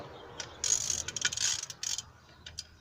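A ratchet clicks in quick bursts while loosening cylinder head bolts on a 2005 Nissan Sentra 2.5L, close and crisp with short pauses between runs of ticks.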